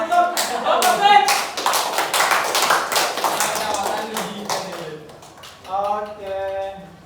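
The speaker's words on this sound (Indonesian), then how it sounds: "kita berikan lagi aplaus untuk Bapak Switch" Audience applause for a presenter in a classroom teaching-practice session, a burst of clapping from a group of people that gradually thins out, with speech mixed in toward the end.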